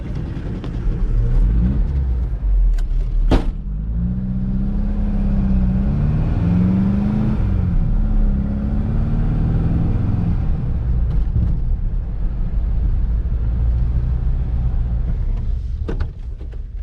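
A Baja bug car's engine runs loud and close, holding a rough steady drone while the revs climb and fall in a few swells before settling back to idle.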